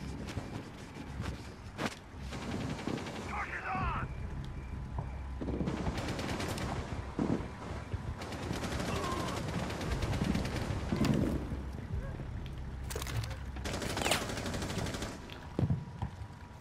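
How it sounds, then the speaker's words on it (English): Gunfire in the video game Rainbow Six, with dense bursts of automatic shots and single cracks over a steady background, fairly loud throughout, with a short pause midway. "Stop shooting! Need to reload."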